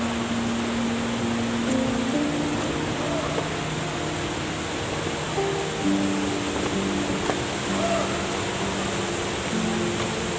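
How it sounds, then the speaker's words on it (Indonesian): A waterfall at Malalak gives a constant, broad rush of falling water. Faint voices and a few tonal sounds sit under the steady roar. "Kita udah sampai ke air terjun yang ketiga dan yang kelima."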